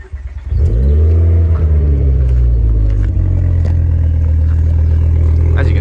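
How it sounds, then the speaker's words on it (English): A Mk2 Ford Focus ST engine starts up close by and settles into a deep, throaty idle through a loud aftermarket Mongoose exhaust, with a brief rev in between. "firing it up so you guys can hear the Mongoose exhaust system"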